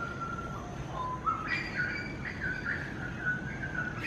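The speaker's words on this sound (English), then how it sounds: "All the birds always chirp." Birds chirp in the early morning outdoors, several short bright calls and whistled notes scattered across the clip over a soft background hush, fairly faint and with no voices.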